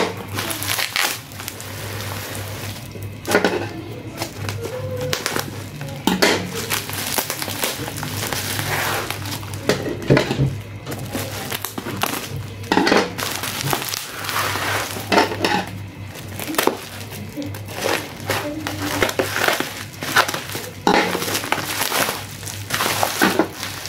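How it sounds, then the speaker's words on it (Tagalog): A heavy, thickly wrapped parcel holding a motorcycle engine support part is unboxed close up, with continuous crinkling, tearing and crushing of packaging plus occasional knocks and rattles, no voices. "So ngayon mag-unbox lang ulit tayo nung in-order natin sa Shopee."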